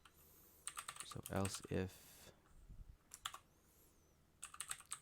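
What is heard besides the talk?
typing code on a computer keyboard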